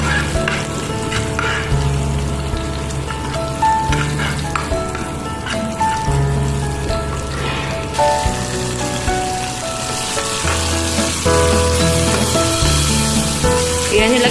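Garlic sizzling in melted butter in a pan, a steady loud frying crackle with faint stirring scrapes, broadening into a fuller hiss toward the end as more ingredients go in.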